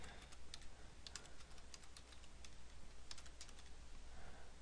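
Keys clatter on a computer keyboard as a domain name is typed, a faint, close series of quick uneven clicks in small bursts over a low steady hum.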